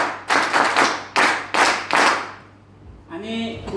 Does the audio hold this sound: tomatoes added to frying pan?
no